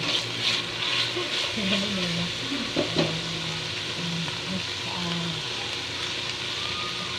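Onions frying in a pan and being stirred, with a steady crackling sizzle throughout and occasional scraping stirs; a voice speaks intermittently over the cooking.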